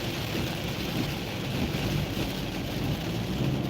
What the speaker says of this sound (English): But it's starting to rain harder.